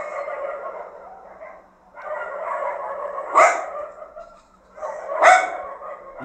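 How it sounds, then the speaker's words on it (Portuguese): Dogs barking and howling in the distance outside, a long chorus that rises and falls in waves, with sharper barks breaking through twice. "São os cachorros na rua."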